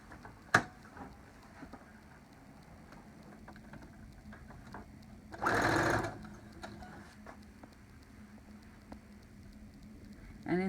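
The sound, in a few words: sewing machine stitching a solid seam on cloth mask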